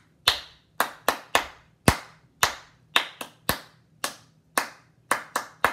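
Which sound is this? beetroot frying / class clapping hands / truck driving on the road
class clapping hands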